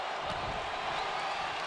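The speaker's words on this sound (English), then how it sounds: "And man, the crowd is going nuts." Steady, dense wash of crowd noise from a wrestling video game arena, a broad roar with no distinct claps or shouts standing out, holding at an even moderate level throughout.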